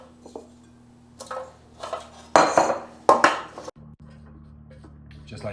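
Oiled potato fries are set onto an air fryer tray, giving scattered clatters and clinks of metal and food, with a few louder bursts of handling in the middle, close by and without talk.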